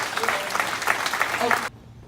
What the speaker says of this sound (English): Mr. Victor Moore, give him a big round of applause, please.